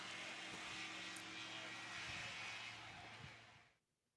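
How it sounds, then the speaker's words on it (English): Small propeller airplane powering through a short takeoff run at a national STOL competition, a loud steady engine drone held for several seconds before cutting off abruptly near the end. "That was a fantastic takeoff."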